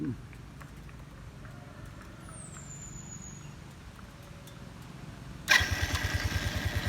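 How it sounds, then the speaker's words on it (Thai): After a quiet stretch, a Suzuki GD 110 motorcycle engine is started by hand and catches abruptly, then settles into a loud, close, pulsing idle. "ลองสตาร์ทมือให้ฟังคร"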